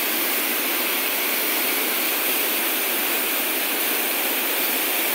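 Water pouring through the Rio Cobre dam in the Bog Walk Gorge, a loud, steady broadband roar of rushing water that goes on without a break and with no talk.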